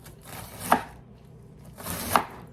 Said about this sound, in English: now I'm slicing up the cabbage now